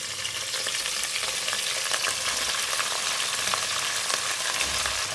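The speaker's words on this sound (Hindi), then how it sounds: "अब मैं इसको इतना फ्राई करूंगी कि इसका कलर चेंज हो जाए।" Chicken, 600 grams, frying in a pan with garlic and ginger, a dense continuous hiss and sizzle with faint crackles and occasional stirring scrapes, close and steady throughout.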